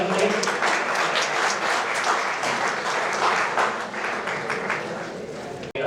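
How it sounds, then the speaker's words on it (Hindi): An audience at a formal event in Indore gives a warm welcome to a guest with dense, sustained clapping from many hands. The applause runs steadily, nearby and fairly loud, with a voice faintly underneath. "जोड़ा ताली से आपका स्वागत करें"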